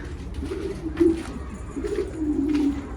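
Pigeons in a loft coo in soft, low repeated calls close by, several overlapping throaty murmurs rising and falling over a faint background hum.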